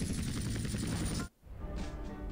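Rapid gunfire from a helicopter in GTA San Andreas, a dense, loud burst of shots with engine roar that cuts off abruptly, then resumes as a steady mechanical drone.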